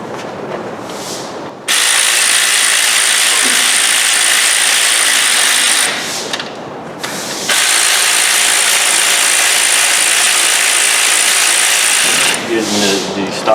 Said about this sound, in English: Alright, let's run these bolts down.